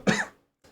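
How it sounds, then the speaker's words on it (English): A single short, harsh cough, loud and close, with a throat-clearing edge, ending in silence and followed by a faint trailing breath. "Once I get excited, I'm gonna cough more."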